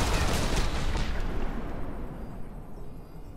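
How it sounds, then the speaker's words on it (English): Chain shot gunfire in Alpha Protocol, a dense burst of rapid shots and impacts in the first half that decays into a fading rumble of combat noise. "I have chain shot."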